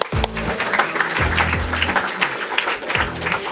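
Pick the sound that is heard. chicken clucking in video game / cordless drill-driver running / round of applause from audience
round of applause from audience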